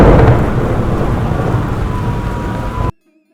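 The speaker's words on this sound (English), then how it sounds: "This is a particularly powerful storm" A powerful thunderstorm from the adventure game Bertram Fiddle rumbles with loud thunder over heavy steady rain, then cuts off abruptly to silence near the end.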